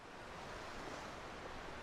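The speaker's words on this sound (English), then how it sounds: "The sound of the waves became more distant." Ocean waves from the Chaos;Head NOAH visual novel form a soft, steady surf wash, faint and distant, rolling continuously without any voices.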